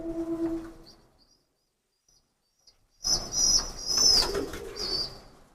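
A long-tailed pigeon, released after handling, bursts into a loud flurry of flapping wings that runs for a couple of seconds after a quiet pause, with a brief bird call at the very start.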